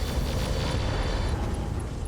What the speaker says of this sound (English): AMS ammunition explosion.